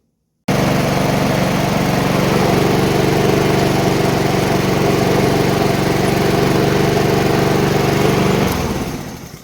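A Craftsman lawn mower runs on a test drive after a drive cable replacement, starting abruptly with a loud, steady, close engine drone that holds evenly, then fades as it winds down at the end.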